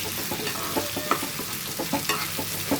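Steady sizzling of brinjal pieces frying in a pan, with soft scraping stir strokes recurring through it, close and continuous with no talking.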